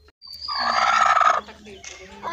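An Aseel hen gives a loud, drawn-out cackling call close by, breaking into a few shorter clucks afterward, with a voice faintly present.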